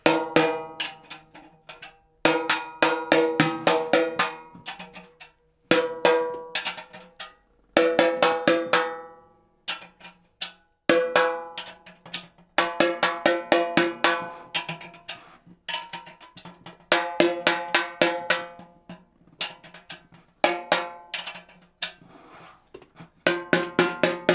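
A snare drum is tapped over and over in quick bursts during tuning, each hit giving a bright, ringing, pitched ping, with short pauses between runs and no talking.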